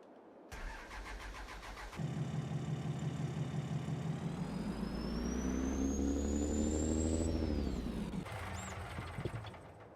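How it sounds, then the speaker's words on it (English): A pickup truck engine cranks and catches, then revs and settles into a loud steady drone with a rising whine as it pulls away, easing off near the end. "Should probably get the truck out of the way"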